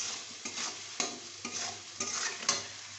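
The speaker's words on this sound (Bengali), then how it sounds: "এবার এর মধ্যে স্বাদ মতো নুন দিয়ে দেবো, অল্প হলুদ দেব, তারপর একটু কষিয়ে" Bata fish stir-frying in a pan with salt and turmeric, a steady close sizzle broken by regular scraping stirs about every half second, with no voices.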